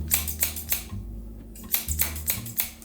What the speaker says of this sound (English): This is a pair of scissors.